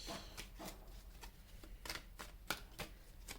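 Tarot cards shuffled and drawn from the deck, a run of crisp riffling flicks and snaps in quick succession, close and fairly quiet, with no voices.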